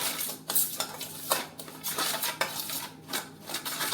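A spoon clinks and scrapes steadily against a bowl, mixing carrot, beetroot and chili pickle ingredients with lemon juice and oil, in repeated close strokes with no talking.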